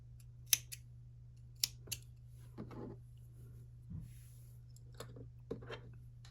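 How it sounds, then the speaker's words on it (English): Scissors snip off yarn ends after a crochet row on a scrap-yarn mesh sweater, giving several short, sharp, quiet clicks spread across a steady low background hum. "we can snip off our ends"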